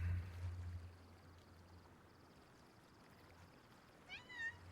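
A pet cat gives a short, faint meow near the end, after several seconds of quiet room hum with a low murmur at the start.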